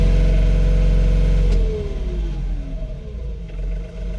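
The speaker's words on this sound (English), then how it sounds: "We're going to rev it up and then drop it down." A John Deere engine held at high revs for a moment, then dropping off as it decelerates toward a lower, rumbling idle, close and loud.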